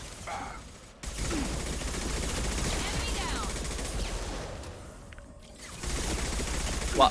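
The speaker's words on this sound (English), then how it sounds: "Machine guns out. Let's go." Machine guns fire in rapid sustained bursts during a Mass Effect 2 combat fight, loud and close, with a short pause partway through and a brief voice under the gunfire.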